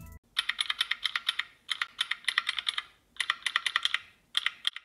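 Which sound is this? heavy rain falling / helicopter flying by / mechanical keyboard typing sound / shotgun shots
mechanical keyboard typing sound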